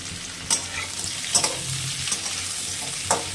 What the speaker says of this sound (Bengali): এটাকে হালকা ভেজে নেব